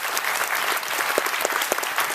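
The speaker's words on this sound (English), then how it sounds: "Can we please give the first grade artists a round of applause?" Sustained applause from parents and students at a school celebration for first grade artists, a dense steady patter of many hands clapping at close range, with no voices rising above it.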